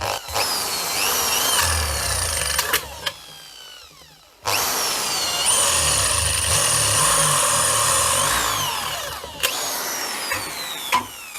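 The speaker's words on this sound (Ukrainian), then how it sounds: "П'яте сверло я вже уграв, ставив шосте, спробуємо сверлити нержавійку, знову ж таки, без керна." Cobalt Hauer drill bit boring into stainless steel with a Vorhut impact drill, run without a centre punch; loud grinding, whining bursts of drilling, pausing briefly twice before resuming.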